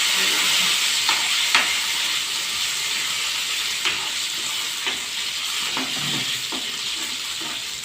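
Garlic frying in a pan for a mung dal amti, a loud, steady close sizzle and hiss with occasional faint clinks and stirring scrapes throughout.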